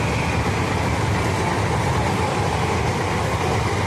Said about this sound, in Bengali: ট্রেন আসছে দেখো, ট্রেন যাচ্ছে দেখো guys।